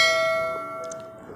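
A notification bell rings once, its bright sustained tone holding steady and slowly fading across the short clip, close and clear with no talk over it.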